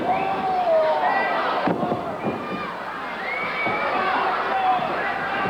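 Capacity crowd at a 1984 WWF pro wrestling arena roars and cheers continuously, a dense, loud wash of shouting voices with occasional louder swells.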